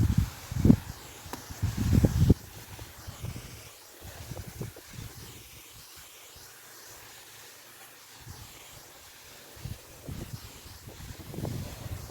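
Wind gusts buffet the microphone in low rumbling bursts, with a steady hiss and faint rustling between them, louder at the start and end.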